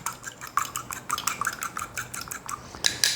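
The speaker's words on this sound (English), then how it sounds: "This egg I'm going to take, and I'm going to beat it just a little bit before I put it in here." One egg is beaten in a bowl for a banana peanut butter oatmeal cake, a quick uneven run of light clinking strokes against the bowl, close and fairly loud, with no voices.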